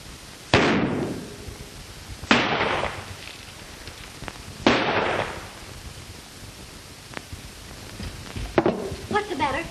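Gunshots in a 1933 western film, Phantom Thunderbolt: four sharp, loud reports spaced a couple of seconds apart, each with a short echoing decay, followed by a cluster of smaller cracks.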